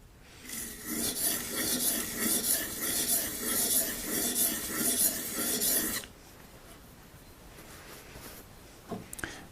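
A thin plane blade is rubbed back and forth on an oil stone in a steady rhythmic rasping scrape of about a dozen strokes, which stops abruptly, followed by quiet and a few light clinks.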